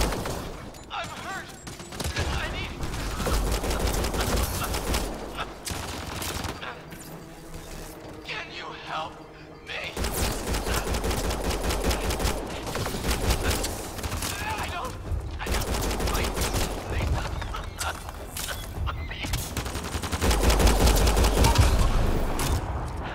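Sustained gunfire rattles through a firefight in Mass Effect: Andromeda, dense rapid bursts and mechanical clatter running loud and nearly continuous, with game voices and effects mixed in.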